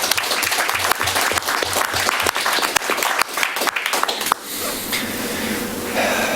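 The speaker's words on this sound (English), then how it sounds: "that deserves a round of applause" Audience applause at a city's State of the City address: brisk, loud clapping for several seconds that cuts off sharply, leaving quieter room noise and scattered claps.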